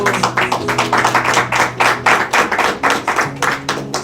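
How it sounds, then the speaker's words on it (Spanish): Congregation in a church clapping in time, a steady rhythmic beat of hand claps with a sustained musical tone underneath, fairly loud and close throughout. "Denle un fuerte aplauso a Dios."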